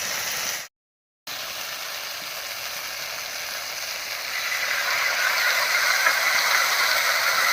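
Ground spice paste hits taro stolons already frying in a pan, giving a steady, close sizzle that swells louder partway through, with a short dead gap near the start.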